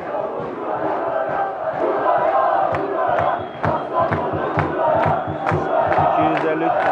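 Spectators at a Turkish football match between Etimesgut Belediyespor and Kastamonuspor chant and cheer in a loud, sustained crowd roar with rhythmic shouts and claps recurring across the stands.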